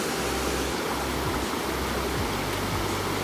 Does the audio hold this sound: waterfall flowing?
yes